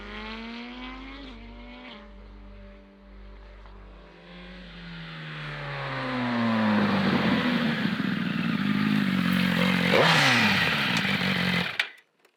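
A Yamaha R1 superbike's engine and exhaust rev on the road, the pitch sweeping up and down in sharp rising blips before swelling into a loud, ragged roar that cuts off abruptly.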